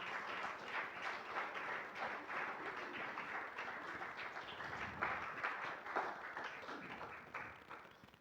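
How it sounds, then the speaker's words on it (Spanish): Church congregation claps together in a steady, fairly faint patter of many hands that continues for several seconds before trailing off, with no voices over it. "¿Por qué no le dan un aplauso al Señor en esta mañana a Él?"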